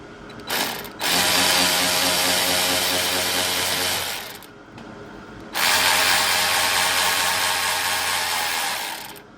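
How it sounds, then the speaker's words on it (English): A ratchet fitted with an 8mm deep well socket spins rapidly in two long, loud bursts, removing throttle body screws on a 2021-2026 Chevy Trailblazer, with a short pause between runs and no talking. "the combination that I found out worked is getting a 8mm deep well socket"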